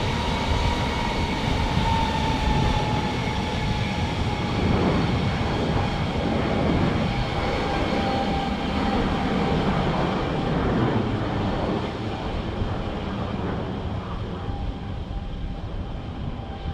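Heavy FedEx jet taking off from Tucson International Airport, a loud sustained engine roar with a steady whine running throughout and fading slightly toward the end, with no speech.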